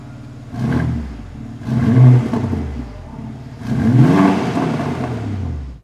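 A 2021 BMW M4 Competition engine revs in three loud, rising bursts with crackling exhaust pops between them, close by and with no talk.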